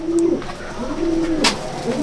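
Pigeons in a loft coo close by, two or three soft low rolling calls in succession with a brief flutter between them.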